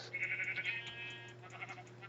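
Sheep bleat in the Minecraft video game, several short, quiet, wavering calls in quick succession over a steady low hum, with no voices.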